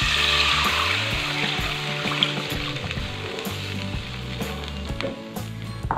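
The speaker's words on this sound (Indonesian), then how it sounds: "Sekarang aku mau masukin air kaldu" Chicken broth poured into cooked spice paste in a hot pan, a steady hissing sizzle and bubbling under a low running hum, close and continuous, the sizzle strongest at first and then settling.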